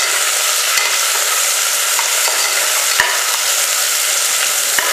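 Two big onions sauté in hot oil for wheat rava vegetable pongal, a loud continuous sizzle with occasional soft stirring taps.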